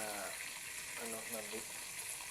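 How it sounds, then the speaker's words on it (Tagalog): Tilapia sizzles in hot oil with a loud, constant hiss, and a voice briefly speaks over it. "Prito ko na yung tilapia"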